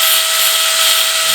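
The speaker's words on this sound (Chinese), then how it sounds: "我要进行对这个螺丝进行轻轻的打磨" A power grinder lightly grinds the tip of a screw from a car engine bracket, giving a steady, loud high-pitched whine that runs unbroken throughout with no talking.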